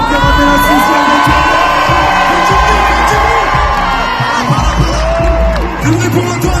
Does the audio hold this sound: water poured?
no